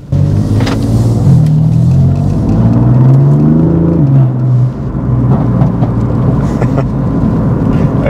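BMW M4 Competition (F82) with a popcorn exhaust tune revs loud and close. A deep rumble rises and falls, and scattered crackles and pops follow.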